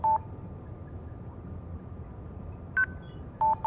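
Keypad tones dial 911 on a phone in a Los Angeles crime video game, short isolated beeps spaced irregularly over a quiet hiss, with no talking.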